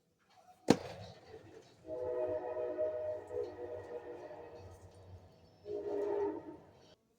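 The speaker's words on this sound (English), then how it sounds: "I hear a train." A train passes at a distance, a low rumbling roll with tonal horn-like bands rising and fading over several seconds after a sharp knock, faint and indoors-sounding.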